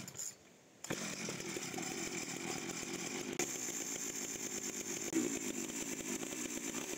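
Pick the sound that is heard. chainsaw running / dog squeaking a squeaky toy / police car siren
chainsaw running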